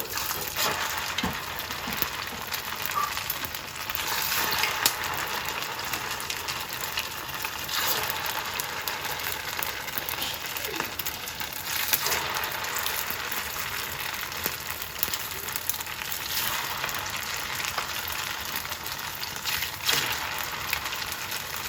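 Fish cakes frying in hot oil over medium heat, a steady crackling sizzle holding at an even level throughout, close and without talk.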